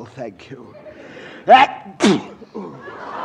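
A sharp sneeze bursts out, followed quickly by a second, amid quiet talk and a brief thank-you.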